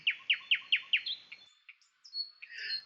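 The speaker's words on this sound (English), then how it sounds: "the sound of the fabulous nightingales was so very beautiful and captivating" Nightingale song used as a sound effect: a bright run of five rapid repeated chirps followed by scattered whistled notes and a trilling phrase, clear and close with no voices.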